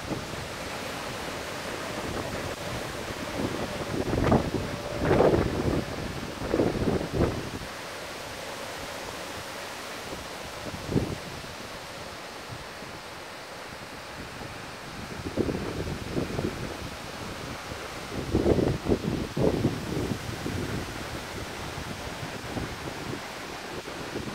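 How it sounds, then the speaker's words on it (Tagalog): Strong typhoon wind in South Korea roars in gusts, swelling loudly several times and easing between, buffeting the microphone; no talking. "lakas ng hangin"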